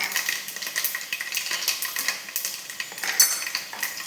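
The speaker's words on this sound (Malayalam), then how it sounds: "ഒരു ടീസ്പൂൺ കടുക് ഇട്ട് പൊട്ടിക്കാം ആ കൂടെ അര ടീസ്പൂൺ ഉലുവയും കൂടി ഇട്ട് പൊട്ടിക്കണം" Mustard and fenugreek seeds crackle and pop in hot oil for a lemon pickle, a dense run of sharp, close crackles and sizzling spatters with light utensil clinks, no voices.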